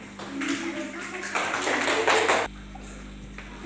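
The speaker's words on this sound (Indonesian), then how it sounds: "Tepuk tangan dulu untuk Nini." A classroom group claps for a student about to present a discussion report, a short spell of moderate applause in a room that stops abruptly, followed by quieter background sound.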